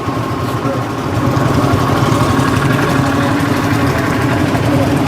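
A nearby generator engine runs steadily with a constant droning rumble at a horse fair, with faint voices mixed underneath.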